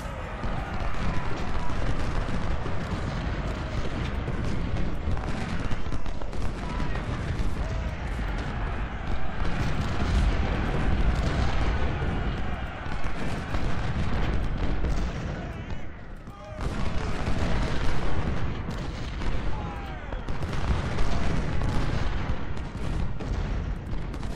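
Artillery fire in the Civil War strategy game Ultimate General, heard as continuous rumbling cannon booms and battle noise, loud and dense throughout, with someone talking over it.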